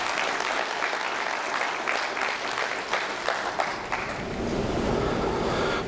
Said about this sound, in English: Give them another round of applause, you guys.